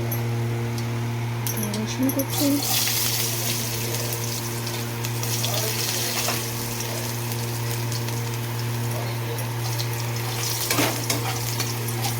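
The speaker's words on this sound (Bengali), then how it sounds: "মাছ ভাজা তেলের মধ্যে দিয়ে দেবো গোটা জিরে গোটা জিরেটা একটু ভাজা হয়" Whole cumin seeds frying in oil left over from frying fish, with a steady, moderate sizzle and crackle over a low background hum.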